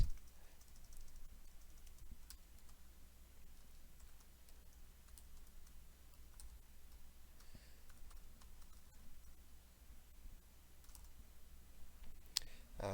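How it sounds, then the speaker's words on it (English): An email address is typed on a computer keyboard: a faint, steady patter of soft key clicks runs throughout, with no voices. "I'm typing in the email address"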